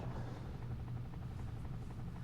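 Helicopter in the Desert Strike video game, a steady low rotor drone with a buzzing hum held evenly throughout, loud and unbroken with no talk over it.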